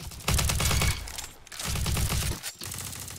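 Two rapid bursts of video game gunfire, each under a second long and close, separated by a short gap, with a clipped third burst at the end.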